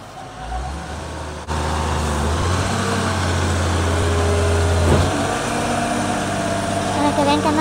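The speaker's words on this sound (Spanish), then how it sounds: "Así son los camiones de basura aquí en Juchipila" Garbage truck rolling along Calle Emiliano Zapata in Juchipila, Zacatecas, its engine rumbling loudly and close after a sudden onset, with music and a voice speaking underneath.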